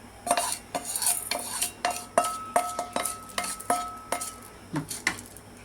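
Chana dal and urad dal are dry roasted in a pan and stirred with a metal spoon, producing sharp, repeated clinks and scrapes against the pan in an irregular rhythm over a faint rustle of dry lentils.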